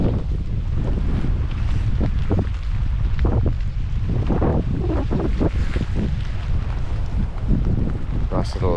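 Strong storm wind roars continuously across a moored sailboat on a mooring ball, averaging 28 knots with gusts to 48, with buffeting microphone wind noise, rigging rattle and water slapping the hull, steady and loud throughout.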